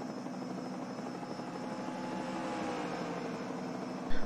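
Helicopter rotor and engine drone heard from the overhead camera in a NASCAR Winston Cup racing video game at Talladega, a steady broadband whir throughout with a brief louder bump at the very end, no talking.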